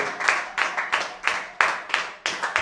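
A church congregation claps in steady rhythm during worship, about eight sharp, close hand claps at an even tempo.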